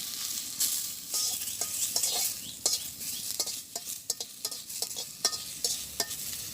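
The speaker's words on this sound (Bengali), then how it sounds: "নিম পাতাগুলো আমি ভাজি করে নেই। তো কড়াই গরম হয়ে গেছে," Neem leaves dry-frying in a hot wok before any oil is added, with a continuous bright sizzle and crackle under repeated sharp scrapes and taps of the stirring spatula, close and alone.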